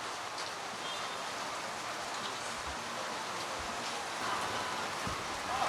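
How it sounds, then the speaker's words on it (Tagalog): Heavy rain pours steadily and densely throughout, a constant loud hiss with scattered drop impacts, no voices. "kaya lang talagang malakas ang ulan"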